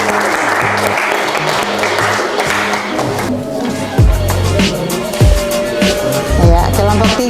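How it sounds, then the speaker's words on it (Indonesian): An audience at a university teacher-training session applauds a presenting group with dense, continuous clapping that carries on through the clip, and a voice speaks briefly over it. "Kita beri aplaus dulu kepada kelompok"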